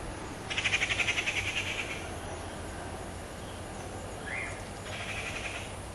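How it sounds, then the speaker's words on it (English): Birds chirp on a farm planted with mango, pomegranate and sapota trees: a quick burst of bright, rapid chirps near the start, then a few scattered faint calls over a steady low outdoor hum. "birds chirping, you can see here."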